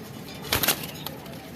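Pigeons in a loft give a brief flurry of flapping wings with a soft coo, close by over a quiet room background.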